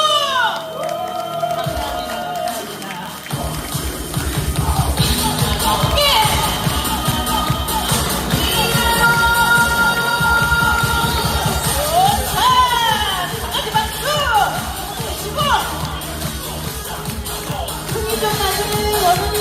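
An audience at a unification school graduation ceremony in Ansan cheers, whoops and shouts loudly over music, a dense crowd roar that lasts the whole stretch with voices mixed in.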